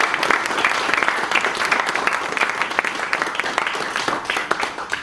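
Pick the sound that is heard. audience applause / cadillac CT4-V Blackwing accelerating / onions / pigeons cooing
audience applause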